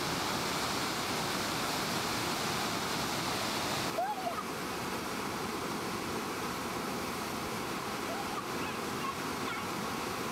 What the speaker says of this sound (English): it is the size and speed of the Athabasca River that makes this quite a powerful fall